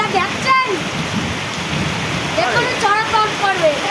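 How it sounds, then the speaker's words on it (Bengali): Heavy downpour, the year's first big rain over a village, hisses as a steady, loud, dense roar throughout, with a voice talking over it in places. "দুর্দান্ত বিভৎস বৃষ্টি গাইস, এই বছরের প্রথম এরকম বৃষ্টি।"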